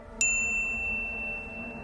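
A single bright notification bell ding rings out sharply, then its clear metallic tone fades slowly over about a second and a half, standing alone.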